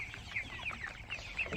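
Tiger and sonali chickens cluck softly in a brief, busy burst of overlapping calls, faint and close, with no voices.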